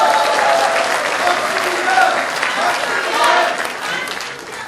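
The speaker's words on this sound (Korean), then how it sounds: "박수현 동지에도 뜨거운 박수 한번." Dense, sustained applause from a political rally crowd fills the space, loud and continuous throughout, with a faint voice heard faintly beneath the clapping.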